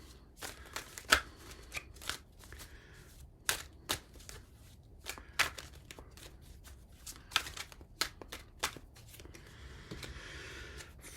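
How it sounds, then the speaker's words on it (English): Tarot cards are shuffled and drawn close by, a series of sharp riffling flicks and slaps in irregular rhythm over quiet background. "Let's get a card on your career to round this reading off."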